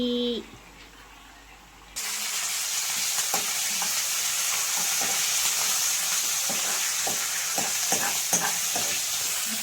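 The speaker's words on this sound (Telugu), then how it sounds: "పగులు పగులు వస్తుంది" Mustard seeds, cumin and chana dal tempering in hot oil for Rayalaseema green chilli dal, a loud steady sizzle that starts abruptly after a quiet opening, with sharp scattered pops and crackles throughout.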